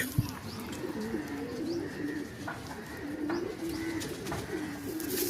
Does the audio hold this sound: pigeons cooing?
yes